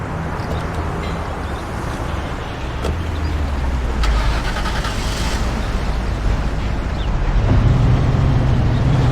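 Car engine in the video game Mafia 1 drones steadily at close range for the whole stretch, low rumble thickening and growing louder near the end as it revs up.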